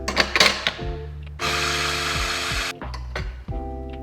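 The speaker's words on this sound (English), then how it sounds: "Turn your grinder back on and open the bean gate. And then you just want to grind all of that through." A Mahlkonig E65S commercial coffee grinder runs with the bean gate open, grinding cleaning tablets: a steady, loud whirring burst of about one and a half seconds between shorter motor starts and stops, with no talking.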